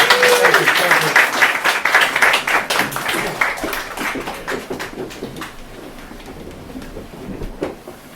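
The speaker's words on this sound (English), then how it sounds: "Let's keep clapping till he gets to the back." An audience at an open-mic poetry evening claps steadily, loud at first and gradually thinning out and fading over several seconds.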